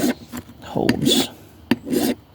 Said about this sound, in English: I'm just going to scuff it up a little bit just to make sure